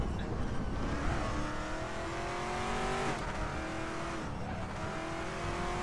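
Race car engine in the RaceRoom racing simulator, played in VR with an Oculus Rift DK2, revving steadily with rising and falling pitch through gear shifts and brief tire squeal, loud and continuous.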